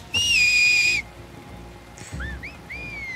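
An enemy whistles a signal while patrolling in The Last of Us Part II. A loud sustained whistle sounds first, then shorter rising and falling whistle calls follow over faint rain-like ambience.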